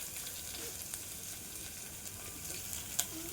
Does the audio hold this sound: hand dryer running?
no